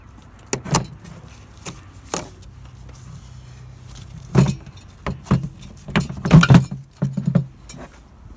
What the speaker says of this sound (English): Making some rattling noises.